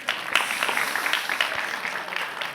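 Short burst of clapping from a group of people at a talk on edible schools, with scattered distinct claps standing out over a steady patter for a couple of seconds.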